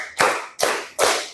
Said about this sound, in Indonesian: Tepuk empat.